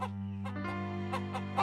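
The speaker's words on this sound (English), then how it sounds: "Caillou liked watching the chickens." Cartoon chickens on a farm give several short, clucking bursts, near and moderately loud, over a steady, sustained musical tone running underneath throughout.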